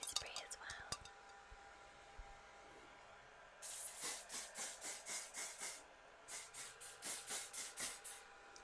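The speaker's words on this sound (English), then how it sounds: "an anti-humidity spray as well" Rapid bursts of anti-humidity aerosol hair spray hissing close by, a quick rhythmic series of short spritzes after some faint whispering.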